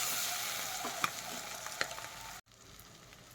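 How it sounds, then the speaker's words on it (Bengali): An egg fries in hot oil for an egg and potato curry, a dense, close sizzle with a few crackling pops that drops off abruptly partway through. "ডিমটা হালকা একটু লাল লাল করে ভাজবো, আবার খুব বেশি ভাজবো না"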